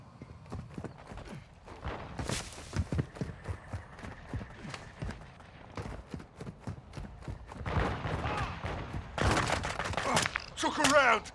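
Bursts of gunfire in the Call of Duty: Modern Warfare 2 video game rattle out in rapid volleys, clustered and loud, with a shout and other battle noises mixed in amid dense combat.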